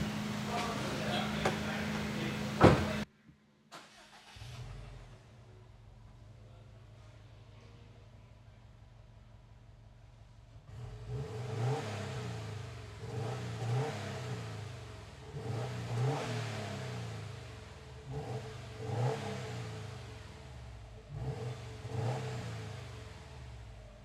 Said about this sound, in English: This is going to be a before exhaust clip